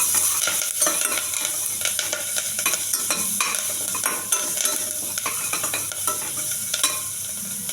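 Green chillies and garlic fry in a pan until lightly golden, crackling and sizzling steadily up close while a spoon stirs them with frequent scraping clicks against the metal.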